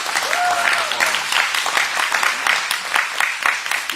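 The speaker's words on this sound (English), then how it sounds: "So let's give her a applause." Applause for the honorary chair at a public launch event, many people clapping in a steady, moderately loud patter, with a short cheer or call near the start.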